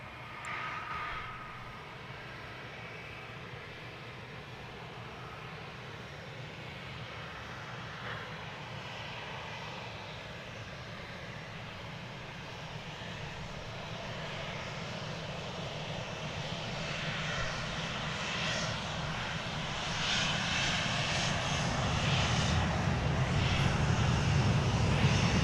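An American Airlines Airbus A321neo arriving at DFW airport from Tucson produces a distant, steady jet engine whine and rumble that gradually grows louder as it approaches.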